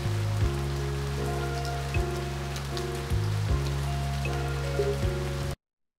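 Steady rain falling on a surface as an ambient effect in the visual novel One, spread evenly across the clip under a looping background music bed with sustained low tones, no voices.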